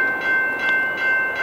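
A train rolls through a road crossing at night in Falmouth, a loud, close, steady rumble with rhythmic wheel pulses repeating about every third of a second under a constant high tone.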